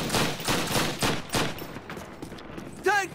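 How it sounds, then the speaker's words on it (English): Turret gunfire in a Call of Duty campaign mission: loud, close bursts of rapid shots in several pulses, ending in a ringing metallic ping. "Oh crap, I hear a turret"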